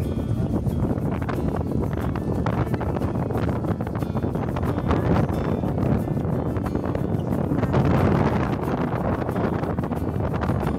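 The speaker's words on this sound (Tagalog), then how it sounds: "Nasipol yung hangin eh, sa sobrang lakas." Strong wind blows over the sea around a small fishing boat, making a constant, loud, rough roar that buffets the microphone throughout with no break.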